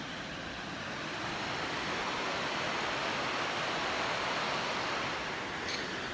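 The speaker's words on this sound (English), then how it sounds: "Actually, this isn't a waterfall, this is just some rapids." River rapids on a trail near Mammoth Lakes, a dense, steady roar of rushing water at close range that stays constant throughout, with no voices.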